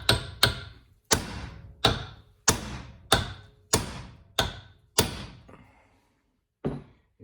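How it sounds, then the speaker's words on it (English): Hammer striking a chisel driven against a rear differential bearing on a 2004 Ford F150, about nine sharp metallic blows in a steady rhythm with short ringing decays, close and loud, then a pause and one final strike. "get yourself a decent chisel, put it inside here and smack it really hard with a hammer"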